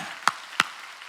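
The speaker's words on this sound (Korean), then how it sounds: "악인의 길 깨달았으면 박수 세게 치라고 하나님께" A church congregation clapping hands loudly at a Sunday worship service, two sharp, close claps about a third of a second apart over a quiet background.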